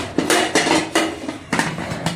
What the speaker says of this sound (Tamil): மூடி போட்டு மூடிடலாம்.